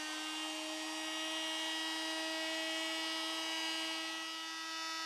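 FEIN MultiMaster oscillating tool with a large sanding disc and 500 and 1000 grit sandpaper on a foam backing, sanding during boat renovation, giving a steady high-pitched buzzing whine that holds throughout with no talk.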